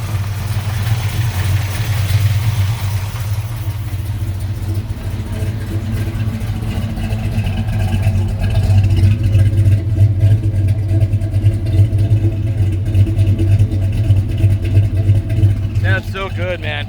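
A 1966 Chevrolet Biscayne with a big block 402 V8 idles loud and close with a lumpy, rumbling beat, rising into revs and settling back, while people talk briefly near the end.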